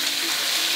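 Chicken pieces frying over high heat in a wok for sesame oil chicken soup, a steady, dense hiss of oil sizzling close by, loud and continuous with no talk.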